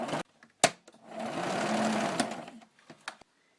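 A sewing machine zigzags an X across a fabric tie on garden bunting. It runs in one steady burst of a couple of seconds, framed by short clicks and pauses, close and clear with no talking.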